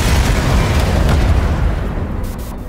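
A bombing explosion in a Watch Dogs: Legion video game trailer roars as a loud, dense, close blast that fills the whole clip and slowly fades toward the end.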